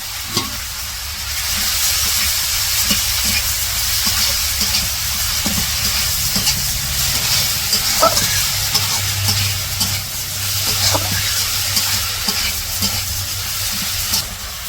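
Turmeric, salt and chili powder with green chilies frying in oil in a pan, a steady hiss and sizzle with occasional stirring scrapes, close and continuous throughout with no talk.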